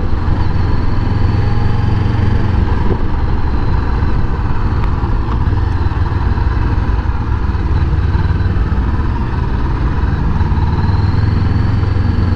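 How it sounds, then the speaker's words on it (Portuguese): A 2018 Honda CBR500R motorcycle engine idles steadily and loudly with a low, even rumble that holds constant throughout, no voices present. "Até o som do motor é diferente."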